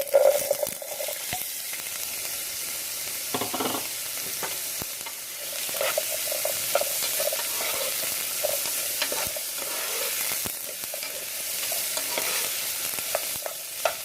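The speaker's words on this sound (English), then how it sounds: "I'm going to add it to the saucepan, and I'm going to saute them a little bit." Vegetables sauté in olive oil in a saucepan, a soft continuous sizzle broken by scraping and stirring clatter at intervals throughout, near and moderately quiet, with no talking.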